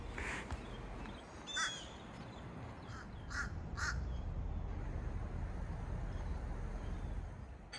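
Crows caw in a few harsh, separate bursts from far off, with one call answering another across a quiet outdoor background.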